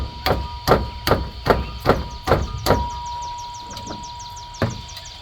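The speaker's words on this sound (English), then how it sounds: "We'll get a hammer and just lightly tap that." A hammer lightly taps metal while a car water pump is replaced, a steady series of light, ringing strikes, then a pause before one last tap.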